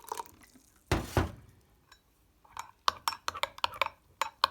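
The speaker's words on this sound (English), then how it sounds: "just add some filtered water to this and mix it so it is nice and liquid and sloppy" Filtered water is poured into a bowl of puppy food mix in a brief gushing splash, then wet clinks and sloppy dripping sounds follow in quick irregular bursts as the mix is stirred up close.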